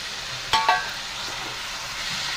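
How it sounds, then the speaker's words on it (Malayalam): Prawns go into a frying pan with ivy gourd, making two quick clattering splashes. A steady close sizzle and soft stirring follow. "കൊഞ്ച് ചേർത്ത് നന്നായിട്ട് ഇളക്കി യോജിപ്പിക്കാം"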